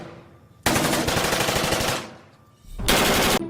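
A plastic toy Nerf-style M47 gun firing in rapid bursts, two loud, dense rattling runs close to the listener with a brief gap between them.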